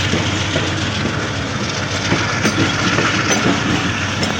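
Steady rumble and rolling clatter of a passenger train moving through fog, loud and continuous with faint rhythmic clicks over the track.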